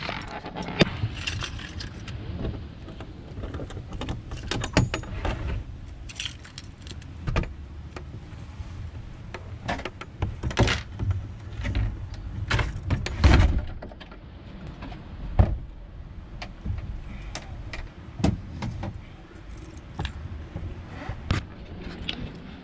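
Keys jangling and a door being handled aboard a boat, with repeated metallic rattles, clicks and knocks scattered over a low background rumble, close to the microphone and without speech.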